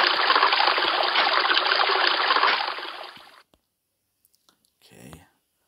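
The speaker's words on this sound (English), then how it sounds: "First step, once it's all dug out, is to fill the bottom with water." Water pours steadily into the bottom of a freshly dug-out greenhouse pit about three by three by four feet, a dense rushing gush for about three seconds that tapers and stops, then a short faint noise.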